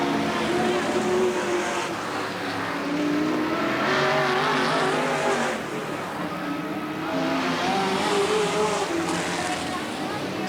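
Race cars circle Riverside Speedway in a 1990 main event as one car moves to lap slower cars, producing a steady, loud drone of engines that rises and falls as they pass, with commentary heard over it.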